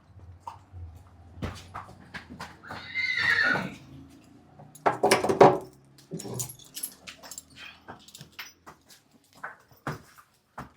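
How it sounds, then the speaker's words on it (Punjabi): Horses on a stud farm neigh and whinny in loud bursts, one near call and others answering, amid faint stable noises and a dog-like whimper, with no talk. "ਜਦੋਂ ਇੱਕ ਘੋੜੀ ਵੀ ਬਾਹਰ ਵਗ ਜੇ ਸਾਰੇ ਹਿਣਕੀ ਜਾਂਦੇ ਆ ਫਿਰ"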